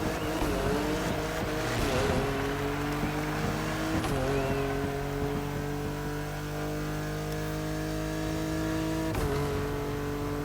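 A BMW's engine strains in the racing game The Crew Motorfest, droning loud and continuous with a wavering, labouring pitch that dips and recovers, steady throughout without pause.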